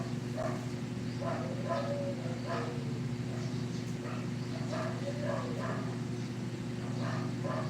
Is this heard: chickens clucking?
no